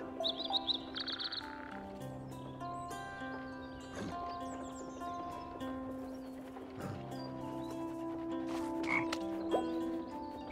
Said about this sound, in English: now I wait for the frog.